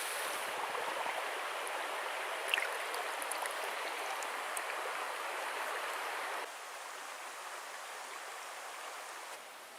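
Running water from a backcountry stream in the Porcupine Mountains rushes steadily nearby, holding a constant wash that drops slightly in level partway through, with no talking.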